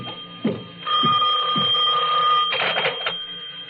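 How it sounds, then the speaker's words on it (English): An office telephone rings with a steady electronic tone, bursts of ringing repeating across the clip, loud and close, with no one talking. "my phone was ringing"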